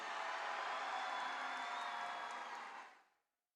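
A robotics competition crowd cheers and whoops for the blue alliance, a loud steady roar in a big arena that fades out over the last half second.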